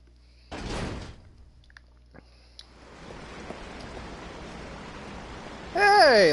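Door opening in Resident Evil 0, with a heavy sliding thud and a few clunks, then a steady rushing waterfall-like hiss rising beneath, ending in a loud tonal game sound.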